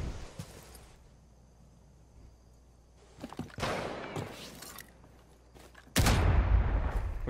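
Gunfire in the Rainbow Six Siege video game: several loud, sharp shots and bursts, the heaviest near the end, over steady game ambience with no clear talk.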